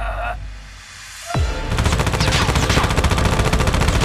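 Gunfire in a rooftop shootout from a short film: after a single sharp crack, rapid bursts of automatic fire hammer continuously and densely for several seconds, loud and close.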